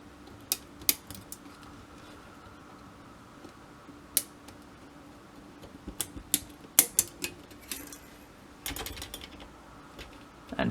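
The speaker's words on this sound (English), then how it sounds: "you are ripping the spot welds off" Spot welds snap off Bosch PowerTube battery cells as a run of sharp, sparse metallic clicks and pops, close by, with a brief scraping burst near the end and quiet gaps between the snaps.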